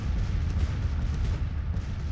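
Cannon artillery fire rumbles steadily in a Grand Tactician: The Civil War battle, forming a dense, continuous low roar of booms with no clear separate shots.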